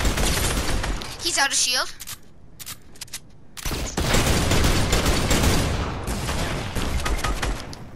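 Rapid bursts of gunfire crackle in a shooter video game, loud and dense, pausing briefly before another long volley, with players talking excitedly over the shots.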